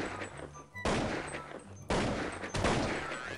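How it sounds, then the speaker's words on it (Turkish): Three sharp, loud gunshots in Counter-Strike 1.6, fired one at a time with about a second between them, each with a short ringing tail. "Ya bir mermi atmak istiyorum."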